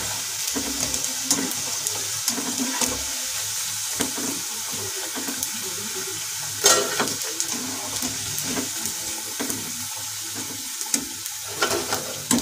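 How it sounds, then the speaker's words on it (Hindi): Soya chaap fries in a pan, giving a soft steady sizzle with scattered pops and occasional clinks, quiet and close throughout. "इसी प्रकार से मैं इन्हें भी फ्राई कर लूंगी।"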